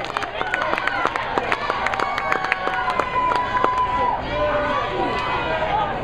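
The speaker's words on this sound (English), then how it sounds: "Give them a big round of applause." Audience cheering and applauding for the Monday night contestants: steady clapping with whoops and shouts, fairly loud and close, continuing for several seconds with crowd voices mixed in.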